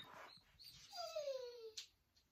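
A dog in a home kitchen gives a faint, drawn-out whine that slides downward, with a brief higher yelp just after, set against quiet room tone.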